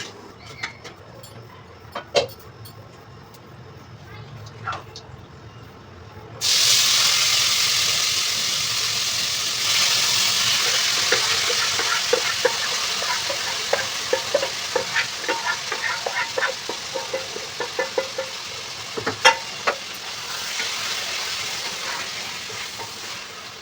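Loud, steady sizzling of meat frying in a hot pan, with scraping and clinking as it's stirred, continuing for a long stretch, before fried potatoes are added.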